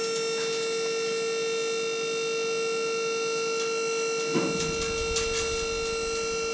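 A hydraulic lift on a Load Trail dump trailer runs with a steady whine and hum, joined near the end by a low rumble and clatter of rocks.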